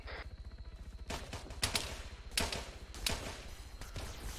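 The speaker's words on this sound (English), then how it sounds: "Opening fire" Sharp gunshots from a Halo firefight, a few scattered loud cracks over a steady low rumble, with a faint tone at the very start and no speech.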